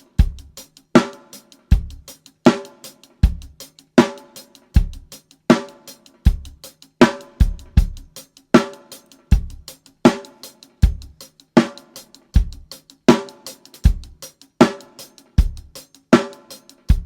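Live acoustic drum kit, recorded and mixed in Logic Pro X through a Presonus 1824c interface, playing a steady groove with kick and snare hits evenly spaced over a driving beat, loud and close with no talking.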